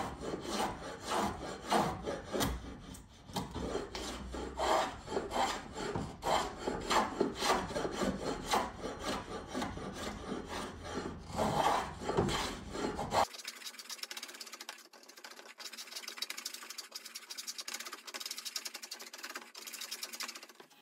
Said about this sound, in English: So the draw knife does a great job at these kind of main bits